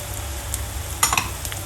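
Spices such as salt, chili and turmeric being mixed into egg masala in a pan, with a soft background sizzle broken by a few close scraping and stirring clatters near the end.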